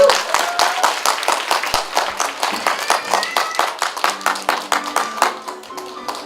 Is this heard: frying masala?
no